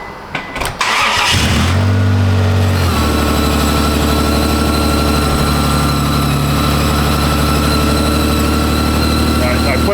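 A Honda Passport engine cranks briefly after a few clicks, catches and settles into a loud, steady idle close by, a low even hum holding to the end.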